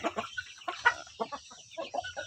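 Several roosters sharing one coop cluck in short, uneven bursts, close and fairly quiet, with a low rumble of background noise underneath.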